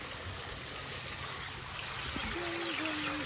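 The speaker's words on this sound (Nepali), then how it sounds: "साथीहरू यहाँ चाहिँ पुरै पानी परिरहेछ" Heavy rain falls steadily outdoors, a soft, continuous wash of water sound at moderate distance, with a brief tonal whine rising near the end.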